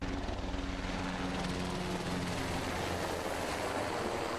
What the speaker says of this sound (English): 2 military helicopters flew overhead